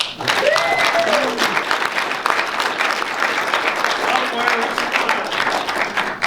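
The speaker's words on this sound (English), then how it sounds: "We are now going to give a round of applause to the best there ever was." A ski history audience in Crested Butte, Colorado, breaks into sustained, loud applause lasting several seconds, dense and steady, with a few voices calling out over the clapping.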